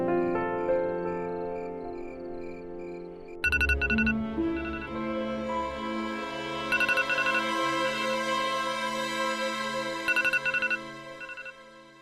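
A phone rings with a repeating electronic melody while a call is placed to a relative. The ringtone pulses loud and close in several bursts over a steady tone, with no talking.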